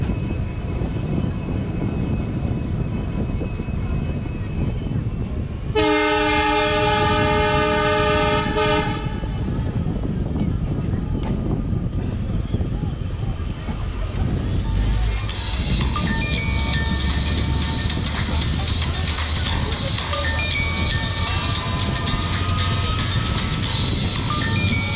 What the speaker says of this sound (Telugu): రైల్వే స్టేషన్ నుండి మన ఇంటర్సిటీ ఎక్స్ప్రెస్ బయలుదేరుతుంది.